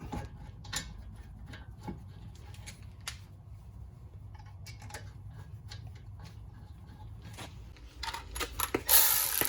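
Metallic clicks and ratcheting ticks from a wrench tightening the wheel bearing bolts on a 2010 Camaro 3.6, sparse and quiet at first, growing busier and louder near the end, with no talking.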